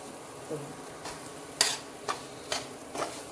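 Mango pickle frying in hot oil, soft sizzling underneath while a spoon scrapes and clinks against the pan in several distinct stirring strokes, close and fairly quiet.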